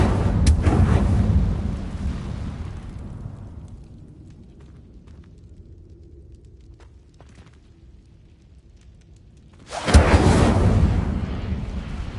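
An Incendio fire spell is cast in the Hogwarts Legacy game, a loud roaring whoosh of flame that fades away and then bursts out again with a second loud roar near the end.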